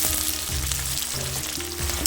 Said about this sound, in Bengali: পেঁয়াজটা একটু হালকা ভাজিয়ে নেবো পয়লা